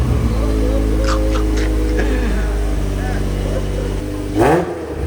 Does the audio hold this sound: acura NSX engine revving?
yes